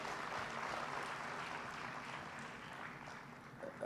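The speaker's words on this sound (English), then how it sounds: "Another round of applause for the Honorable Minister." Audience at an economic growth forum applauds a minister, with a soft, continuous patter of many hands clapping at a distance and no talk over it.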